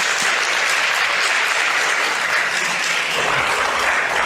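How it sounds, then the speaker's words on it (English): A room full of summit attendees applauding a speaker, loud, close and continuous clapping that stays even and dense from start to finish with no voices over it. "Let's give him a hand round of applause so we can get some energy in the room"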